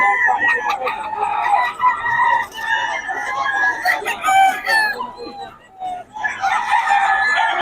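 Chickens cluck and roosters crow repeatedly and loudly at a poultry market in Batangas, with overlapping calls from many birds throughout and some talk mixed in.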